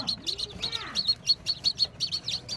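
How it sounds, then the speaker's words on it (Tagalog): New chicks chirp in rapid, repeated high peeps from close by, with some soft flapping and a brief human voice underneath. "Nagtutukaan kasi itong mga sisiw pagka bago."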